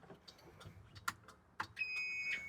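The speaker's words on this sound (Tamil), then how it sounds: "ஸோ உங்களுக்கு பீப் சவுண்டு கேட்கும், ரிவர்ஸ் சென்சாரோடது." Reverse parking sensor of a Mahindra UDO electric auto rickshaw, heard as a faint steady electronic beep tone that starts partway through, amid quiet clicks and handling noises.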